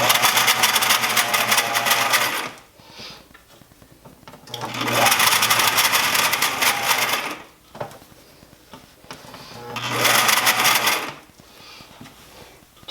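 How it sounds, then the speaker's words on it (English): A sewing machine stitches down a fabric hem turned up about half an inch on a garment, running in three steady bursts of close, loud whirring separated by short pauses. "I'm turning it up a 1/2 an inch approximately and just stitching it down on the bottom"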